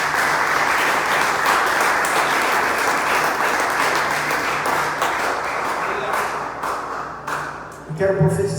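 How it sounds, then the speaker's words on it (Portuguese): Church congregation applauding for Jesus during a service, sustained loud clapping from a crowd that tapers slightly toward the end, with a voice emerging at the close. "eu quero que você dê uma salva de palmas ao Senhor Jesus"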